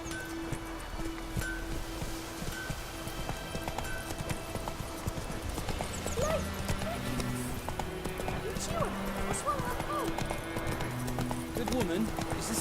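Roach the horse gallops in The Witcher 3, rhythmic hoofbeats thudding steadily beneath game music and ambient sound.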